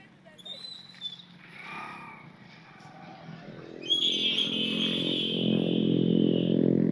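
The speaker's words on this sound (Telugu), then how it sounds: "బైక్ వస్తుంది" A motorcycle approaches during a Sankranti holiday kite-flying outing, its engine rumble building steadily and growing loud and near in the second half, after voices talking and a high whistling tone earlier.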